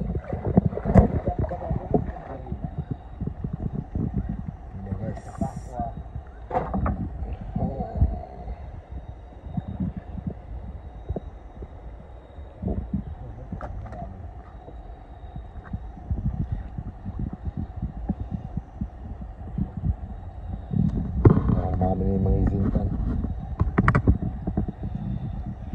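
A boat moves along a river with a low, continuous rumble of engine and water, rough with wind buffeting the microphone. The sound swells louder toward the end.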